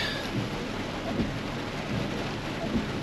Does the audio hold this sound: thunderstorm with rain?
yes